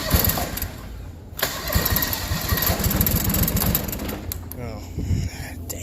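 Car engine with a leaking coolant system starts and runs briefly, a close, rough mid-pitched idle with knocking pulses, mixed with voices.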